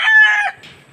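A rooster crows once, close and loud, a sharp cry that cuts off after about half a second, with only faint clucking left behind.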